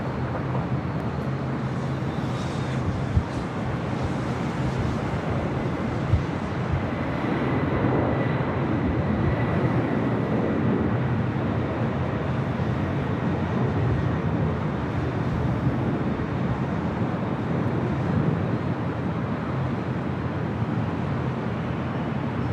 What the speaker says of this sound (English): It's converted 767-300ER, now rolling down at 25 left.